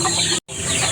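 Dense turkey gobbling and clucking fills the clip, loud and close, broken by a split-second gap of silence in the middle.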